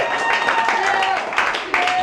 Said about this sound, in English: Next up, guys, round of applause for the hat,